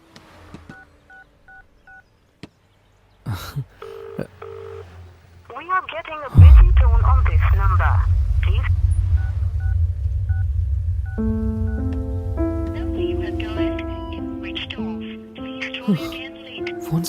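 A telephone being dialed in a Telugu movie scene: a few quiet keypad tones, then a loud rising burst of dial beeps, followed by a long droning line tone with melodic call tones layered over it.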